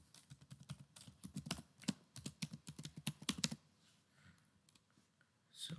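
Rapid, close typing on a computer keyboard, a dense run of crisp key clicks for about three and a half seconds, then quieter scattered taps and a final burst.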